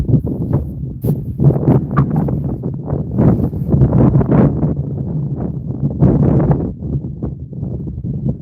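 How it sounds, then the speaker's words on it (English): Wind gusts outdoors at a fishing spot in Redmond, Oregon, buffeting the microphone with a steady, rumbling roar that swells and eases in uneven waves for the whole stretch. "Wind's picked up a little more too."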